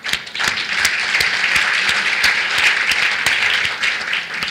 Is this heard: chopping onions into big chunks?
no